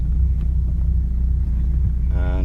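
A car is started while a clutch is bled, giving a steady, loud low engine rumble throughout with a brief rising harmonic whine near the end.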